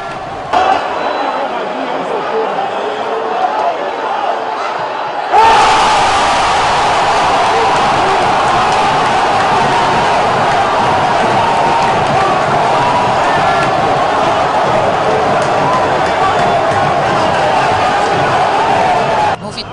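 A stadium crowd at Pituaçu erupts celebrating Bahia's second goal against Vitória, a loud sustained roar of cheering over a commentator's voice.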